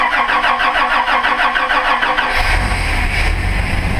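Toyota 2F engine with throttle body injection cranking over in rhythmic pulses while cold, then catching and settling into a loud, rough low idle right up close, with no talking.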